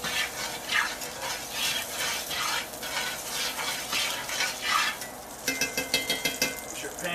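Catfish frying in butter in a pan, a steady loud sizzle with stirring and scraping, followed by a run of light rhythmic clinks near the end.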